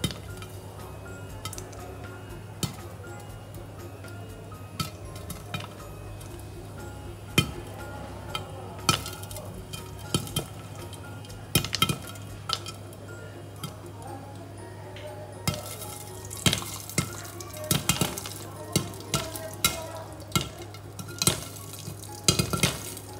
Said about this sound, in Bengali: পপকর্ন বানানো হচ্ছে